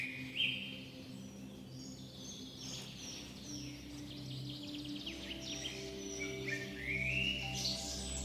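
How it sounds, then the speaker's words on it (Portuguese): An African fish eagle's call in a wild African waterside setting: high, thin chirping cries recurring over a steady low drone, moderately distant and not very loud, with no voices. "É o grito da águia pescadora africana, símbolo inconfundível das águas selvagens do continente."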